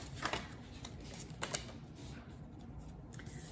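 Tarot cards reshuffled by hand, a few soft papery riffles and slaps near the start and again midway, quiet and close over a low steady background hum.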